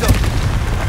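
A Confringo spell blast in Hogwarts Legacy lets out a short, loud, close boom with a heavy low-end thud that quickly rolls into a rumbling wash.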